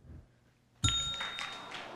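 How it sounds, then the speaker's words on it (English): A sharp bell ding signals a misspelled word at the 1997 National Spelling Bee, one clear ringing strike with a lingering tone under faint hall ambience. "We hear the bell"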